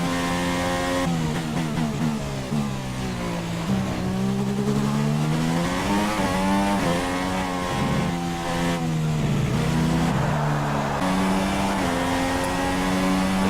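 Formula 1 car lapping a circuit in the F1 2016 racing game, a loud continuous high-pitched engine whine rising through gears and dropping under braking, with shifts and brief tire noise.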